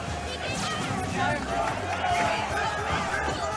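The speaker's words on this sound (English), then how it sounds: "Crowd is definitely getting loud now." A tournament crowd at a Super Smash Bros. for Wii U event swells into steady cheering and shouting, loud and continuous, with commentators talking over it.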